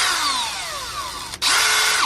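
A power drill whirs indoors during a thrifted nightstand makeover, winding down in pitch, cutting off briefly, then starting again at a steady loud whine.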